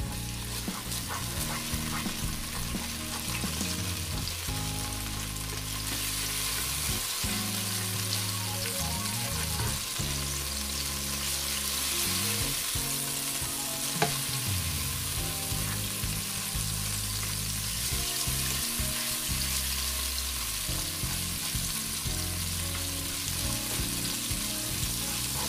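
Garlic stir-fries in a hot pan, a loud, steady, unbroken sizzle that continues for about 25 seconds, with faint stirring movement underneath and no speech.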